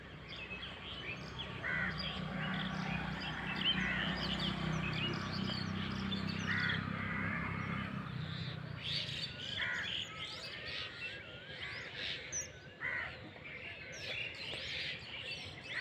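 Small birds chirping outdoors in a natural setting, scattered bright tweets and calls at moderate distance over a low rumbling background, with no voices.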